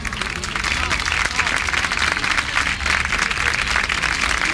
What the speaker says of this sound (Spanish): Aplausos también para ellos